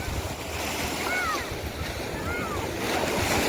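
Sea waves roll and wash continuously in a steady broadband roar, with wind noise on the microphone and faint bird-like chirps drifting in twice.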